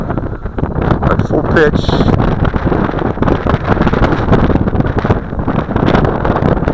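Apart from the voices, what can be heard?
strong wind around flying Syma X5C quadcopter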